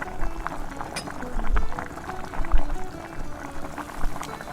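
Potatoes going into a spice masala that is frying in oil, with a bubbling, crackling sizzle and a few soft thuds and stirring clatters at moderate volume.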